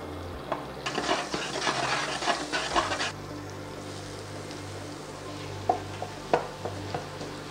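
Potatoes in olive oil and butter in a medium-hot pan give a loud sizzling burst for about two seconds. It then settles to a faint hiss with a few sharp clinks of a utensil against the pan.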